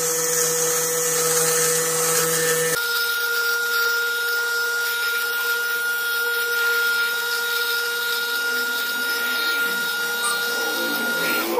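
Electric lint remover running against a sweater, a steady whirring motor hum with a faint rubbing texture from the blades on the fabric, continuous and close for the whole stretch; the pitch shifts slightly early on as pressure changes.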